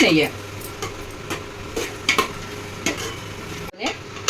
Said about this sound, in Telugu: దీంట్లోనే పచ్చిమిరపకాయలు వేసి బాగా వేయించుకోవాలి.